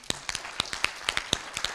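Applause for a senator from an audience at a forum, heard as sparse, separate hand claps at an irregular pace, sharp and fairly close, with no voices over them.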